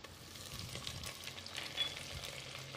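Ginger garlic paste sizzling and frying in hot oil with onions while being stirred, a steady close crackle and hiss with soft scraping, no talking.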